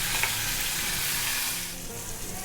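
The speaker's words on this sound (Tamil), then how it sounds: "எண்ணெயில் கொஞ்சம் வதங்கட்டும்." Sliced bitter gourd sizzles steadily in hot oil with mustard seeds and curry leaves, a close, continuous frying crackle that eases slightly toward the end.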